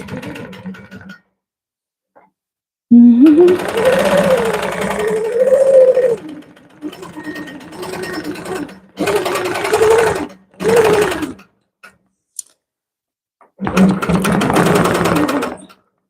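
A sewing machine stitches a quilt in several loud, close bursts of rapid mechanical whirring, with silent pauses between runs and no talking during the stitching.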